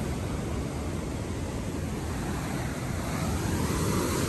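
Sea waves roll onto the shore in front of a seaside hotel, a steady, dense wash of surf that stays loud and unbroken throughout, with no voices.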